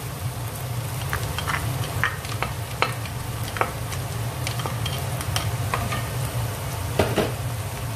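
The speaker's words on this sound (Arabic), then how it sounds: "رح قليها مع الثوم" Chopped onion frying with garlic in vegetable oil for okra, a constant close sizzle broken by scattered light clicks and taps of a utensil stirring the pan.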